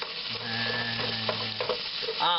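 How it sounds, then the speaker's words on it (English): Melted butter sizzles steadily in a pan while being stirred to start a roux, with a close bubbling crackle and a few soft scrapes from the utensil. "once it's melted, we're going to begin making our roux"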